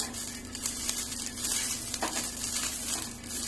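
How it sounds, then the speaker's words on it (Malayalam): Ghee sizzles softly on a hot tawa over low flame while pancakes are being made, a quiet steady crackle with faint stirring scrapes. "ഞാനിവിടെ ഒരു തവ ചൂടാക്കാൻ വെച്ചിട്ടുണ്ട്. ലോ ഫ്ലെയിമിൽ തന്നെ വെക്കണം."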